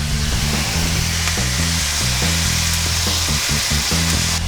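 Ground beef fries in a hot pan with onions for empanadas, a loud, continuous sizzle and crackle throughout, broken by low scraping knocks of stirring.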